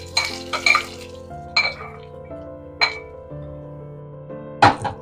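Metal utensils clink sharply against a pot several times as a tempering is added to boiling spinach (palak soppu) sambar and stirred, the bright clanks spaced out over a low steady simmering hum, with no talk.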